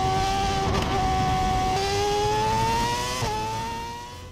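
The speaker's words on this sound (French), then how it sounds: "Quelle intensité sonore pour un tel bolide." A race car at Circuit Paul Ricard during testing sends out a loud, high-pitched engine howl that rises in pitch through gear changes as it passes, fading slightly at the end, with no talking.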